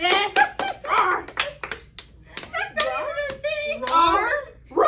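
A few people clapping hands close by for a woman named Naima, sharp irregular claps mixed in with excited talking and a voice, loud and near.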